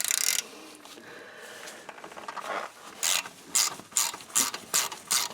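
A ratchet wrench loosens an 8mm bolt on the 4WD hub of a Ford F150, fairly close and clear: a rough scraping turn, then a run of quick rhythmic ratcheting clicks, with no talking.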